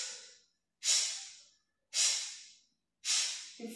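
Beginner pranayama breathing through both nostrils, heard as three slow, close breathy inhalations and exhalations separated by short silent pauses, alone with no talk.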